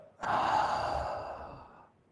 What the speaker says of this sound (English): start to dial in your Ujjayi breath. Let's take a big breath in. Light pause and exhale it out.